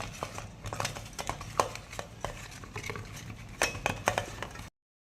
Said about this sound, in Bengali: এখন আলুর মধ্যেও লবণ আর হলুদটাকে ভালো করে মাখিয়ে নেব।